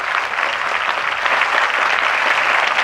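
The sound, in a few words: crowd applause at political rally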